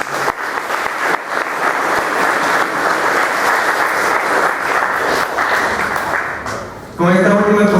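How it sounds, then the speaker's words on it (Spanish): An audience gives loud, sustained applause after a presentation at a university titling event, the clapping filling the room for several seconds before a voice begins speaking at the end. "Por la palabra pido un fuerte voto de aplauso."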